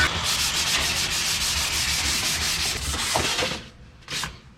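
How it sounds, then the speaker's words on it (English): Steady, continuous rasping of 180-grit sandpaper against a hard dashboard, loud and close, running for several seconds before tapering off into a couple of short final strokes. "I'm gonna start doing some sanding for the dash here. Using 180 sandpaper."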